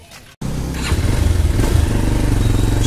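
Motorcycle ridden on a cool morning: after a brief gap the engine rumbles loud and close, holding a steady, throbbing drone that rises slightly as the bike pulls along, with no talk over it.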